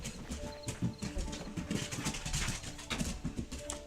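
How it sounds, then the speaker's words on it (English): A dog with the zoomies runs around indoors, a rapid irregular patter of paws and scrabbling thumps, fairly close and moderately loud. "Mind the noise. Dog's got the zoomies."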